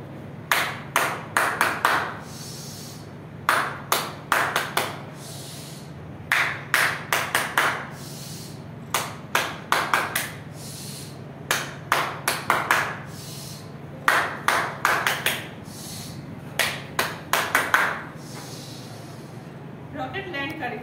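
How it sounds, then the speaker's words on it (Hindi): A rocket clap pattern of hand clapping, quick accelerating bursts of close, loud claps repeated in several groups, with a brief rustle near the end. "उसके बाद हम रॉकेट ताली बजा रहे हैं"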